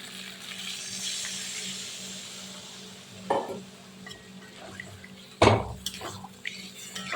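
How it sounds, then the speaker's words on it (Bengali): Water poured into a pan of browned, slow-cooked country chicken curry, a quiet sizzle and bubbling under the pour, with two sharper splashing bursts partway through. "এবার আমি জল দিয়ে দিচ্ছি"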